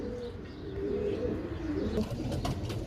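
Pigeons kept for sale cooing close by, a low rolling coo drawn out over a faint background with a few light chirps near the end.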